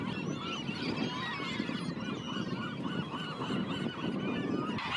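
Gulls squawk and fight over scraps of herring near fishing boats on San Francisco Bay, a dense chorus of overlapping harsh honking cries that continues throughout at moderate distance.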